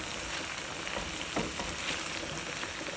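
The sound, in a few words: okra and butter beans sizzling as added to pan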